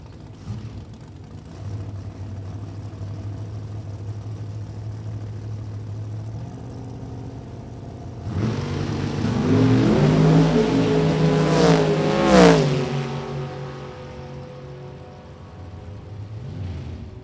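An early model Camaro race car engine during drag racing qualifying, heard first as a low distant idle, then a loud rising rev and acceleration with sweeping pitch before fading away.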